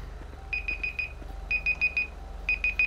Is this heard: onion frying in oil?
no